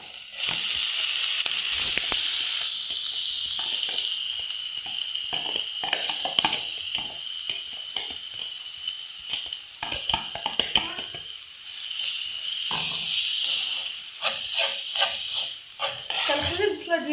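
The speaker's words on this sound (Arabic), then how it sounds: "نضيفو عليها زيت نباتيه، الكميه اللي غادي تشحر لنا البصله ديالنا" Onion sizzles and fries in a pan of olive oil mixed with vegetable oil, a bright steady hiss broken by scraping and stirring clatter, close up.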